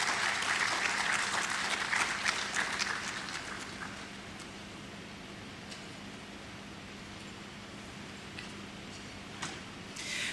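An audience at a Ghana higher education summit applauds, loud and dense at first, then thinning into a softer, scattered patter that trails on to the end.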